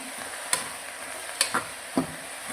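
Vegetable curry (sagu) being mixed in a pan over steady low sizzling, with four distinct scraping knocks of a spoon against the pan spaced irregularly, no voices.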